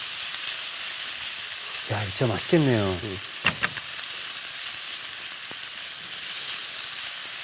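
Abalone and jalapeño frying in a hot pan give a steady close sizzle throughout, with a few utensil clinks, while a voice briefly speaks partway through.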